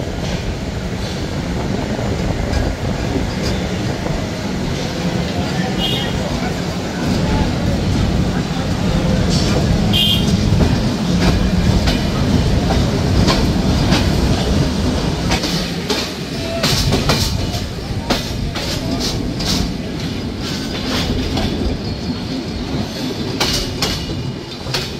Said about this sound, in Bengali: ট্রেনটি ছেড়ে যাচ্ছে বিমানবন্দর রেলওয়ে স্টেশন।